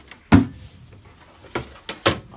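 Metal drawers of a budget toolbox slide and bump shut in a few sharp, close knocks, one loud thud followed later by three quicker clunks over a quiet background.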